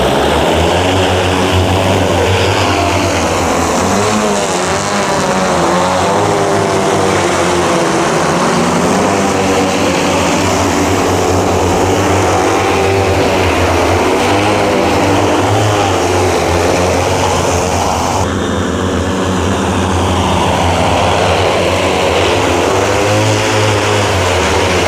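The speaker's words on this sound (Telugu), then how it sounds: "డ్రోన్ అయితే స్టార్ట్ చేసారు" An agricultural spraying drone, just started, runs its propellers nearby with a loud, steady buzzing whine that holds without pause, close and dominant, with no voices.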